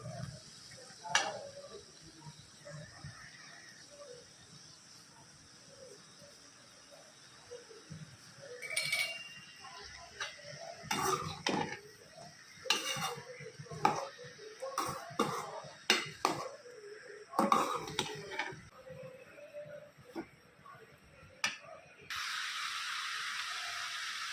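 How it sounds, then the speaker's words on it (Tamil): Ridge gourd sautés with curry leaves, shallots and green chilli in a pan, with irregular bursts of spoon scraping and stirring over a soft, quiet sizzle, busier in the second half. "கருவேப்பிலை சின்ன வெங்காயம் பச்சை மிளகா எல்லாம் இதில் நல்லா கலக்கிற அளவுக்கு நல்லா பரட்டிக்கலாம்"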